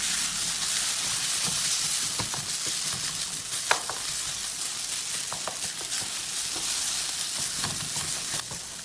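Quail egg burji with shallots is stirred as it fries in a pan: a loud, continuous close sizzle overlaid with repeated scraping strokes of a spoon, and no one talking.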